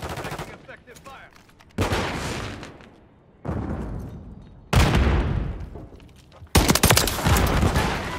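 Gunfire in Modern Warfare III, with four sharp, loud bursts of rapid automatic fire roughly every two seconds, each cracking hard and trailing off into echo, separated by brief lulls.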